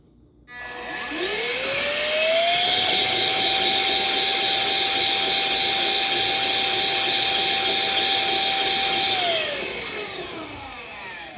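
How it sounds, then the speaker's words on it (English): A 3D printed PLA air engine with three moving parts, a piston design with a rotating valve, spins up quickly to a steady loud whirring hiss with a rising tone, holds it for several seconds, then winds down. "This is a 3D printed air motor or air engine printed out of PLA."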